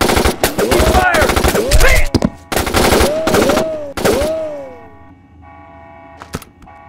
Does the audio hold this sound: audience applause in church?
no